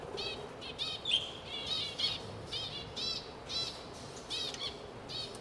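Zebra finches chirp in a garden, with rapid, high, nasal calls repeating every half second or so over faint outdoor background, fairly close and clear.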